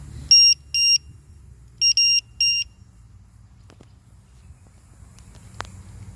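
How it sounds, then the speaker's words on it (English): Two quick pairs of sharp, high electronic beeps sound from a LiPo battery voltage checker on a Hobao Hyper 7 RC car battery, then fade into quiet room noise with a faint click near the end. "Get our trusty Lipo buzzer here."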